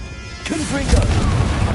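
Confringo blasting spell in Hogwarts Legacy, a burst landing under a spoken shout, followed by a rumbling boom that keeps going to the end.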